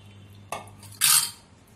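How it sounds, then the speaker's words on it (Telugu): Homemade paneer is poured through a strainer set in a bowl: a sharp metal clink of the strainer, then a short, bright splashing gush of liquid, close and fairly loud in a quiet kitchen. "ఇప్పుడు ఇందులో ఈ మొత్తం స్ట్రెయిన్ చేసుకుందాం"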